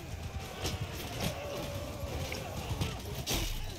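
A horse gallops in the video game Mount & Blade 2 during a cavalry battle, rapid hoofbeats thudding steadily under a noisy battlefield din at moderate level.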